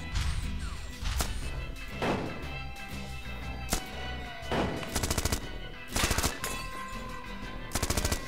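Gunfire in the video game Manual Samuel: a string of sharp, loud shots in irregular bursts, some rapid clusters like automatic fire, over a busy background of game sound.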